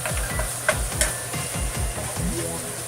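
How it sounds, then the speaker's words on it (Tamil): Vegetables for a vegetarian biryani sautéing in a pan, a steady close sizzle with repeated stirring scrapes and a couple of sharp utensil knocks, no talking. "ரெண்டுமே கொஞ்சம் வதங்கட்டும்"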